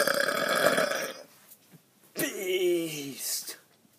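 A person burps loudly and close up: a long rough belch comes first, then after a pause a second drawn-out, tonal burp that slides downward in pitch.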